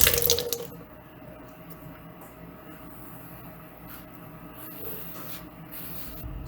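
Tap water runs steadily into a sink as freshly showered, towel-dried hair is wetted again. The rush is even and close, with a louder burst at the start and no talking.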